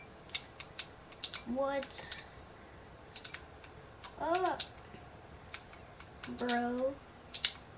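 Keys clatter in quick, light bursts as text is typed onto a billboard in Fortnite, interrupted by short electronic chirps, with a young voice speaking briefly over it.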